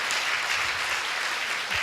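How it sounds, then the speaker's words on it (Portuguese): A church congregation claps together during a service, a continuous mid-level patter of hands that stays even for the whole short stretch. "Você pode aplaudir o Senhor?"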